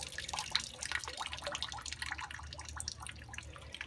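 Water drips and trickles back from a bonsai pot lifted out of a basin, its bottom holes letting water through: a quiet, continuous patter of small drops and splashes, fairly faint and close.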